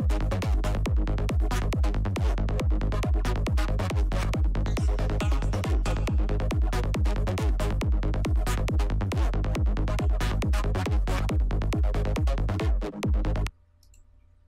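Psytrance synth lead recreating a signature sound, with fast, driving rhythmic pulses over a heavy bass line, loud and dense, that cut off abruptly near the end, with no talking.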